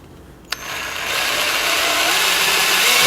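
A power drill bores out and enlarges an existing hole with a marked drill bit during an electric vehicle conversion of an orange Volkswagen Beetle, a sharp click followed by a steady, rising whine that carries on close by without talk.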